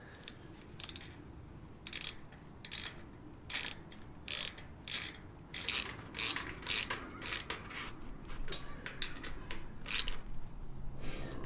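A 10mm socket wrench ratchets nuts while a fire pit is assembled: a series of quick, crisp metallic clicking bursts, some louder and closer than others, with no talking.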